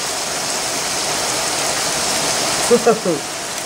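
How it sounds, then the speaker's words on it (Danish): Rain falls in a steady, dense hiss outdoors, continuous throughout, with a brief voice breaking in near the end. "Oh my god, det regner."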